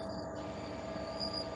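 A train passes near Englehart, its faint, steady rumble heard at a distance with a thin high squeal riding over it, and no voices.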